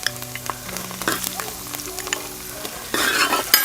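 Cashews and raisins fry in a pan for a Kerala fish molee, a close, steady sizzle with light stirring clicks and a low hum, the frying swelling louder near the end, with no talk.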